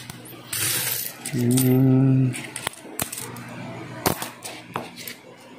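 Philippine piso coins clink and tap while being sorted by hand, giving a few sharp metallic clicks between stretches of someone talking, with a brief humming tone partway through.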